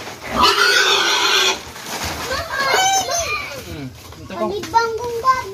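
Pigs on a farm grunt and squeal in short bursts while children talk and play nearby.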